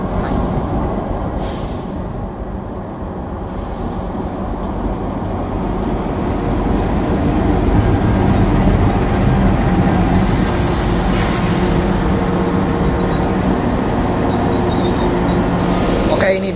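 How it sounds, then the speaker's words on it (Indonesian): The Supas commuter train from Pasuruan to Surabaya Kota, hauled by locomotive 20616, rumbles past at a crossing, a loud, steady rolling roar with rail clatter that swells toward the middle and holds. "Ini dia kereta komuter lain Supas, lokomotifnya 20616"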